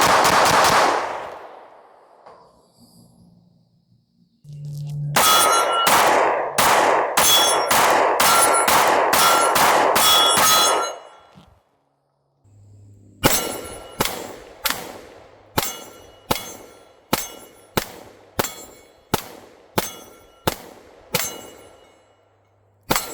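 A Canik METE MC9 pistol firing at steel targets outdoors, two strings of rapid sharp shots each followed by ringing metallic clangs, evenly spaced, with a short pause between strings and a lone shot at the end.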